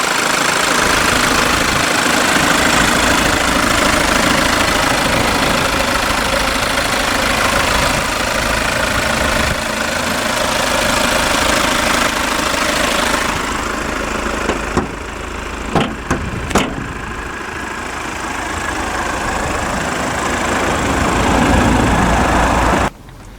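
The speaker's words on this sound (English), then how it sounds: "So let's power on the Sorento and see how it sounds." A 2015 Kia Sorento Platinum engine idles steadily, a loud, close, continuous mechanical hum with a faint knocking texture. A few brief clicks sound near the end, and nobody speaks.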